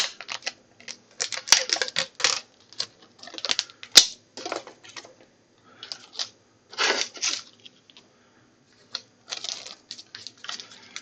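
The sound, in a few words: adhesive tape being applied to a drive label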